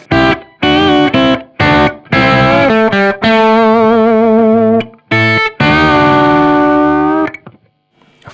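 A loud distorted electric guitar solo with sustained bending notes and short choppy phrases, heavily processed and ringing out before fading.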